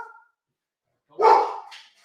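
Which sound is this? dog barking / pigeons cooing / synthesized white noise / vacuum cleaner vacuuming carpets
dog barking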